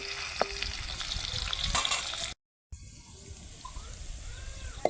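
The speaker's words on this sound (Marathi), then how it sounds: "तेल पण मस्त तापलं आपलं ठेस द्यायला लसूण टाकून घ्यायचा चांगला लाल होऊन द्यायचा" Garlic dropped into hot oil for a tempering sizzles and crackles steadily, with faint clinks of utensils and a short silent gap midway.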